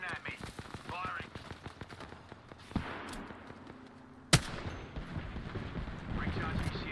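Gunfire in a shooter video game: quick trains of shots, then a sharp single bang near the middle, with a voice talking over much of it.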